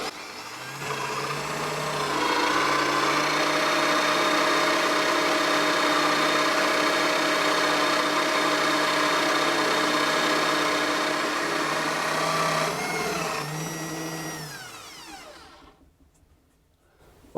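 A power tool routing the neck pocket in a mahogany guitar body, with a steady high-pitched motor whine that spins up, holds loud and constant for several seconds, then winds down to near silence.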